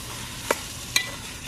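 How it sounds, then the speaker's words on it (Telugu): Country chicken pieces fry in a pan for a Rayalaseema-style natu kodi pulusu, stirred with a ladle: two short, sharp ladle scrapes stand out over a steady, soft background sizzle, with no talking. "ఇలా గరిటెతో కలుపుకుంటూ రెండు మూడు నిమిషాల పాటు చికెన్ని బాగా వేగనివ్వాలి"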